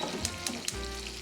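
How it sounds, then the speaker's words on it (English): Loud, steady sizzling of food frying in a hot pan, with a few stirring scrapes and clicks, no voices. "You hear that sizzle? Man, what a beautiful sound."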